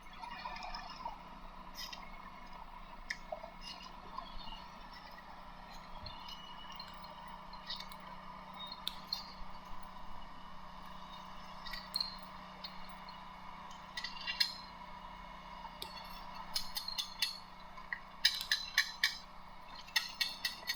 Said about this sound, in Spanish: El ruido que están escuchando es el requintado de los rulos